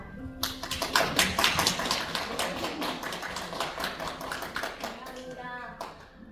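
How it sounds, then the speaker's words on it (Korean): An audience at a library lecture claps to welcome a young author, a dense, even patter of many hands sustained for several seconds, fairly soft and mid-distance, with faint voices underneath. "큰 박수로 작가님 모셔보도록 하겠습니다"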